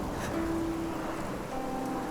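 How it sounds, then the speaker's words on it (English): Wind gust and rain in the video game Infinity Nikki: a steady wash of rain noise with a soft whooshing sweep, moderately quiet and continuous, with faint tonal hums underneath and no voices. "Just a gust of wind and raindrops rushing in. It blew past me with a whoosh"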